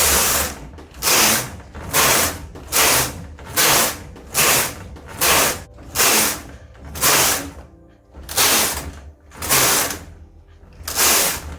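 Brother KH260 bulky knitting machine knitting rows: a rhythmic series of about a dozen whooshing, clattering carriage passes, each swelling and fading at an even pace, close and unaccompanied by speech.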